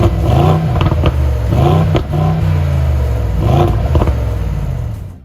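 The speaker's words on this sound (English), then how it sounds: "The exhaust sound outside of the GLE is quiet compared to 63 cars of the past, but a muffled V8 sound does come through." A Mercedes-AMG GLE 63 S V8 gives a muffled, subdued exhaust note outside the SUV, a steady low rumble that swells with a few throttle blips and then fades at the end.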